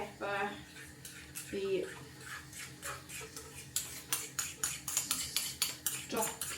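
Mince being mixed with pepper and paste in a pan for cheeseburger loaded fries, heard as a run of sharp, rhythmic utensil scrapes and clacks against the pan that grow steadier toward the end, with a brief word spoken.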